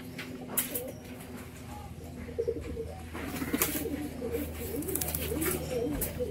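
Machhranga fancy pigeons coo softly in low murmuring calls nearby, mixed with faint chirps, light handling knocks and distant background noise.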